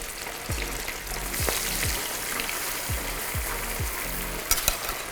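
Chicken wings for buffalo wings frying in hot oil: a constant close crackling sizzle, with low thuds from pieces being dropped or moved in the pan several times.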